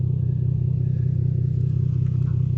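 A car engine idles with a steady, loud low rumble through its exhaust, which needs repair, continuous and close for the whole stretch with no talking.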